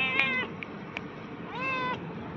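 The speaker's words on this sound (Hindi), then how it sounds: "ये देखो बिल्ली बैठी है यहाँ पे" A cat, sitting nervously on a campus, gives two plaintive meows, one at the start and a longer one near the end, with faint background noise between.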